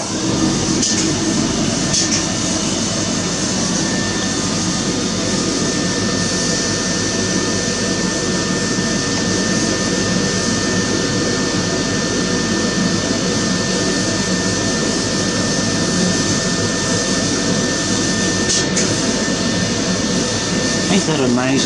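A laser cutter runs with a steady, loud broadband whir and fan-like hiss, continuous and unchanging throughout, with a faint high tone held above the noise.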